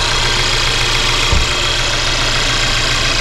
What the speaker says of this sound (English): Let's go check out the engine on this one.